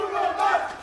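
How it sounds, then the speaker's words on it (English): An esports crowd at a Valorant match chants in unison, a loud sustained roar of many voices filling a large arena. "The chants from the crowd could not be more accurate."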